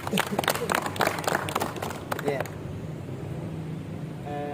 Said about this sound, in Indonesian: mari teman-teman kita tepuk tangan.